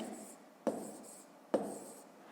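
Pen strokes on paper while numbers are written for a fifth-grade column addition problem, two brief scratchy bursts of writing separated by quiet, close and soft.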